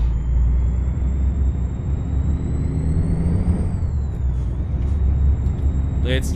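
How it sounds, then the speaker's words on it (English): A Freightliner Classic XL truck in Euro Truck Simulator 2 drives with a steady low engine rumble and a rising then falling whine, and a jake brake bark bursts out near the end while someone talks. "There's the Jake."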